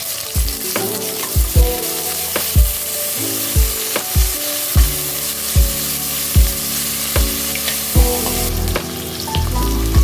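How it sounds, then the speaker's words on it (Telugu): Ginger garlic paste frying in a pan for Hyderabadi bagara rice, a loud steady sizzle with repeated sharp scraping taps of a spatula stirring at a regular beat, close and with no voices. "అల్లం వెల్లుల్లి పేస్ట్ వేసి పచ్చివాసన పోయేలా వేయించుకోవాలి"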